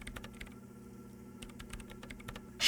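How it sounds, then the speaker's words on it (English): Keyboard keys clatter in the video game Disco Elysium, a quiet, close run of uneven clicks with short pauses between bursts, over a low steady background hum. "Sona Lokanen-Kilda presses unmute on her keyboard"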